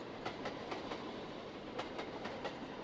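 A train in Trainz: A New Era on the Settle and Carlisle route rolls along with gentle, even braking, giving a steady rumble with periodic clickety-clack wheel beats at moderate distance.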